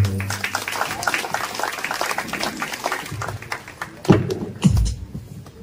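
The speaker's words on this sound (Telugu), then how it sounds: "అందరూ మరోసారి చప్పట్లు కొట్టి నా ఆహ్వానించుకున్నాం" A church congregation gathered for a bishop's New Year message claps steadily in a dense wash of applause, with voices mixed in and a couple of louder thumps near the end.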